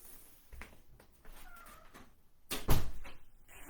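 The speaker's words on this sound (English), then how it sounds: "I'm going to shut this door." A door being shut indoors gives a single loud thump with a short rattle near the end, after a stretch of quiet room sounds and faint shuffling.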